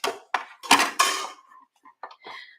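A Stampin' Up die-cutting machine cuts paper with dies, giving a few sharp clattering bursts close by, followed by softer scattered clicks and small mechanical ticks.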